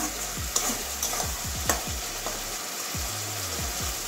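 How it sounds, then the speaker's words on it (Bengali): Mushrooms sautéing with spices in a pan, a steady sizzle under repeated scraping stirs of a spoon, heard close and alone. "মাশরুমটা আমার 2-3 মিনিট কষানো হয়ে গেছে।"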